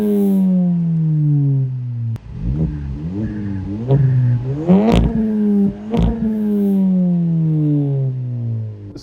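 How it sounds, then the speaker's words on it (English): A VW Scirocco GT with a custom-built modified exhaust revs up several times in sharp, rising bursts between steady idle, loud and close with no talk. "The exhaust has also been modified."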